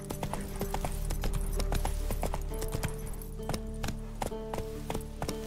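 Horse hooves clip-clop in Witcher 3, a steady run of sharp wooden knocks over a low hum of game ambience, close and moderately loud, with no talk.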